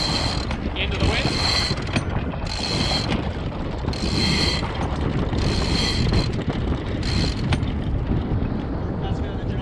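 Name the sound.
anchor chain being let out while anchoring a sailboat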